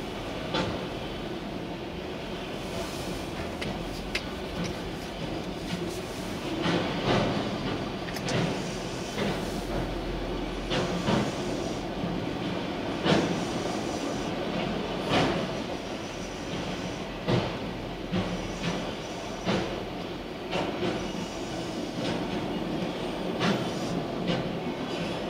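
CSX freight train Q567 rolls past on the tracks, with a steady rumble, wheel clatter and brief squeals running the whole time. The train sounds close and loud, and no voices are heard.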